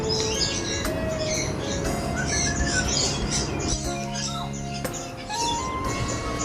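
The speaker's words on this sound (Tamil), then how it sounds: "தூரமாக கத்திக்கிட்டு இருக்கிற கிளிகளும் தான்" Parrots screech and chirp in the distance at an outdoor holiday spot where ducks are also nearby, a busy layer of high calls over constant background noise.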